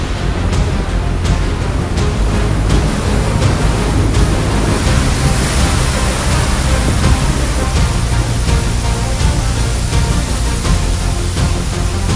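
Heavy Atlantic surf crashing over coastal rocks on La Gomera in the Canary Islands, a loud, continuous roaring wash of water and spray filling the full twelve seconds with no voices.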